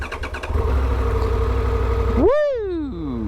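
A 2022 Triumph Tiger 1200 GT Pro with a 1200cc T-plane-crank triple fires up after a low idle-like rumble, then its engine note sweeps up in a sharp rev and settles back down, loud and close.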